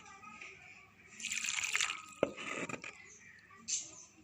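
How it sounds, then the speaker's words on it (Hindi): Warm water splashes and sloshes over fish being washed and rubbed by hand in a bowl, with uneven bursts of pouring and wet handling between quieter moments, close and intimate. "अब थोड़ा सा पानी डाल के हम इसको हाथों से मसाज करेंगे।"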